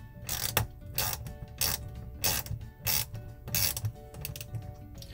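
Screws are driven into a small wooden board for a double-sided Christmas porch sign, with repeated ratcheting mechanical bursts from the driver, each separated by short pauses, close and steady with no talk.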